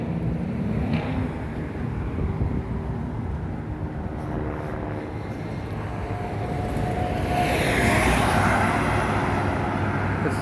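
A city bus on the Las Vegas Strip rumbles past outdoors, its broad engine and road noise building and peaking toward the end amid wind and general street noise.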